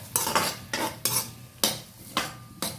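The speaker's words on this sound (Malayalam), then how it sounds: "മഞ്ഞൾ ഒരു നുള്ളിട്ടു എന്നിട്ട് ഇളക്കുക" Coconut pieces with a pinch of turmeric get stirred in a pot over a wood-fired stove, a spoon scraping and clinking against the metal in about six rhythmic strokes, close and distinct without talk.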